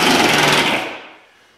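A power drill drives a drywall screw into a door while it is being hung, giving a loud close whir that fades out over about a second once the screw seats.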